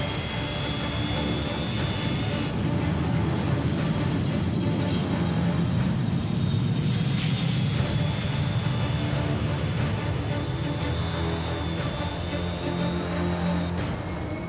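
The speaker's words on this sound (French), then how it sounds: "L'avion au décollage," Airplane taking off, a loud continuous roar of engines with a high whine steady throughout, sustained and close, with no one talking.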